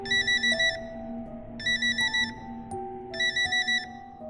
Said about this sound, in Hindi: तभी उस शांति को भंग करते हुए पुष्कर का फोन बजा।